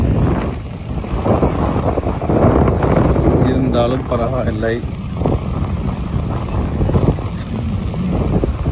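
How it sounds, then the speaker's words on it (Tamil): Strong wind gusts roar steadily across the microphone outdoors on seaside rocks, with a person talking throughout over the rushing noise. "காற்று பலமாக அடிக்குது"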